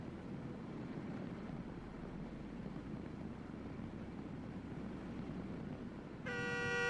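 A passing train rumbles steadily and close for several seconds, then a loud, sustained multi-tone horn blares right at the end.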